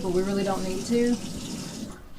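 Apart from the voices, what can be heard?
hot water running from a sink tap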